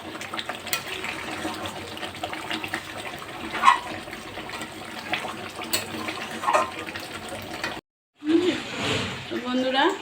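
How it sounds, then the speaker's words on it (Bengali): Hot water pours steadily into a pot of simmering mutton, a close, continuous gushing splash that briefly cuts out before more watery sloshing follows. "গরম জলটা ঢেলে দিলাম"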